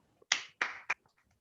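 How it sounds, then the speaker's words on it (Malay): A small group of course participants gives a short, sparse round of clapping for a classmate, three distinct claps close to the listener in an otherwise quiet room. "Tepukan untuk Mira"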